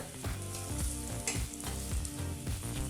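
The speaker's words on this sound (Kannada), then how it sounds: "ಮಸಾಲ ಪುಡಿನೂ ಹಸಿ ವಾಸನೆ ಹೋಗೋವರೆಗೂ ಒಂದು ಮೂವತ್ತು ಸೆಕೆಂಡ್ ಬೆರೆಸಿ ಬಿಸಿ ಮಾಡಿಕೊಂಡ್ರೆ ಸಾಕಾಗುತ್ತೆ" Masala powder stirred and heated in a pan while making tomato rice, a continuous frying sizzle with repeated scraping strokes of a spoon and a rhythmic tonal pattern running underneath.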